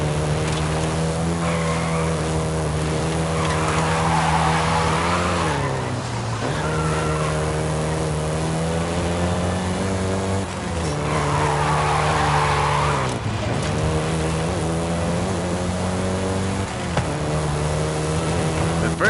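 Volkswagen Golf GTI in the Forza Horizon 5 racing game, its engine droning steadily with shifting revs and repeated tire squeals, loud and close throughout.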